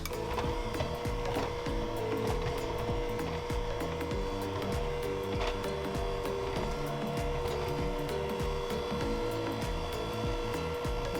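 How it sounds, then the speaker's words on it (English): Electric mixer beating powdered sugar into buttercream at low speed, a steady continuous motor whir with faint rattling ticks from the beaters against the bowl, no talking. "Now I'm going to start beating it with the mixer again,"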